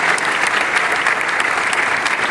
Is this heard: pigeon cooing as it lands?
no